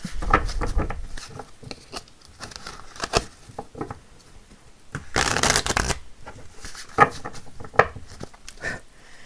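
Tarot cards shuffled in several quick riffling bursts, with a loud dense flurry in the middle and softer papery flicks around it, close by and mostly alone with occasional faint movement.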